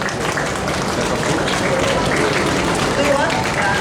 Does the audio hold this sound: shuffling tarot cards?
no